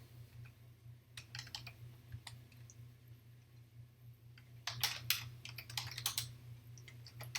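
Fingers type on a computer keyboard in a quiet room, with irregular runs of light clicks that grow quicker and denser toward the end over a low steady hum.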